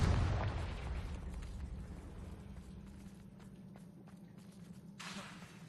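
A Confringo fire spell explodes in the Hogwarts Legacy video game, a loud booming blast at the start that decays into a low rumble, with a softer whooshing burst near the end.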